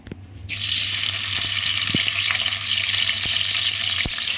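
Tap water runs steadily into a sink while paneer is washed, a continuous hiss starting after a brief quiet moment, with faint clinks and no talking.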